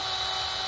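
A power drill bores through and enlarges holes in the wall of an above-ground pool for skimmer screws, a steady high-pitched whine sustained close up without a break.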